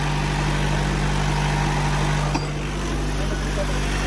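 A Honda B16A engine idles steadily just after a fresh start, with a low, even hum. One brief click sounds partway through.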